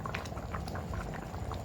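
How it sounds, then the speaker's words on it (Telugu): Fish curry bubbles at a steady boil in an open pot, a continuous close simmer of popping bubbles with no pauses. "చూడండి పులుసు మొత్తం మరుగుతుంది"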